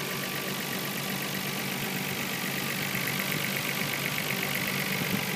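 Idling twin-turbo RB26 engine of a Nissan R34 GT-R with Blitz parts and an enclosed intake, a steady, smooth, fairly quiet hum held without change throughout.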